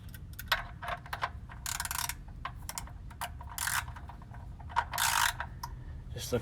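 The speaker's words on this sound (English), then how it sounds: "Put the drain plug back in and tightened it up" A ratchet tightens the oil drain plug under a 2019 Toyota Tacoma SR with a 2.7L four-cylinder, giving close, rapid clicking bursts in several short runs separated by pauses.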